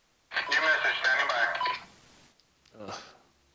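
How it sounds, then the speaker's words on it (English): Twitter notification alerts chiming on a phone in the background, a quick run of bright electronic tones lasting over a second, then a short separate burst after a pause. "That's my phone letting me know."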